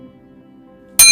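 A bright notification bell ding strikes once after near silence, loud and close, with a sustained metallic ring.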